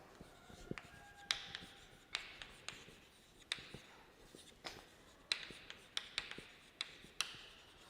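Chalk or marker scratching across a board in a chemistry lecture on chemical equilibrium, a string of short sharp strokes and taps at an irregular pace, fairly close with a quiet room behind.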